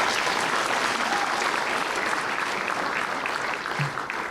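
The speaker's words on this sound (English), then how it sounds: "So please, a round of applause for Dr." A graduation ceremony audience applauds steadily, thick continuous clapping from a sizable crowd held at a constant level, tapering slightly near the end.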